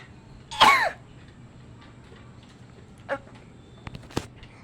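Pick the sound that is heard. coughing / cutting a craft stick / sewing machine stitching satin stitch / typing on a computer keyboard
coughing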